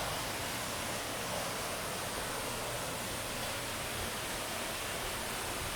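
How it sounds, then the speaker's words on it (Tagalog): Pulacan Falls, a waterfall in Zamboanga del Sur, roars as a steady, dense broadband rush of falling water, continuous and unbroken throughout, fairly close and enveloping, with no voices. "Kita na agad yung Bulacan Falls."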